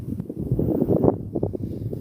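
Gusts of wind buffet the microphone outdoors on a night spent watching the Moon, a low, uneven rumble that swells and dips in bursts throughout.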